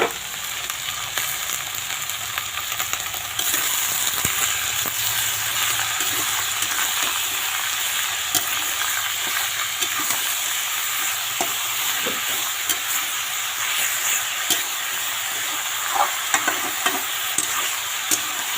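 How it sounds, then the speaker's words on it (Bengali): Gourd seasoned with salt and turmeric powder is stirred in a frying pan over a constant close sizzle, with scattered scraping and clicking strokes of the spoon against the pan and no talking. "তারপর এটা একটু নেড়ে নেবে"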